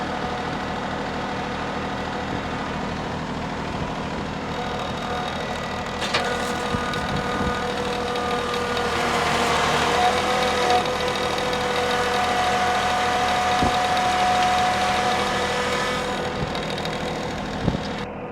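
A Kubota L3902 tractor engine runs steadily while grading ground for drain work, a continuous mid-pitched diesel drone with a slight knock that swells a little in load midway, heard alone without talk.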